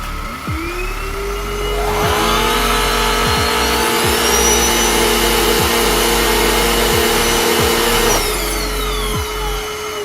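Two cordless stick vacuum motors, a Black+Decker and a HOTAWELI on their lowest settings, whir side by side, one starting just after the other, then both hold a steady high-pitched hum together for several seconds.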